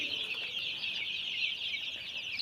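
A dense, continuous chorus of high-pitched peeping from two thousand ten-day-old colored chicken chicks fills a shed, steady and busy throughout with no talking.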